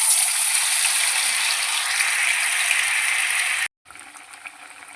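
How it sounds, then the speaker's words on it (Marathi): Potato bhaji batter drops into hot oil and fries with a loud, continuous bubbling sizzle that cuts out briefly near the end, then resumes more quietly. "तेल गरम झालेले आहे, त्यामध्ये आपण आता बटाट्याची भजी सोडणार आहोत."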